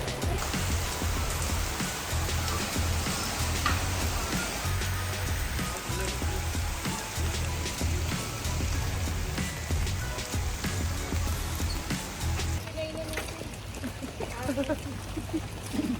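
Rain falls steadily as a continuous close hiss and patter on surfaces, with a low droning rumble underneath and people talking over it.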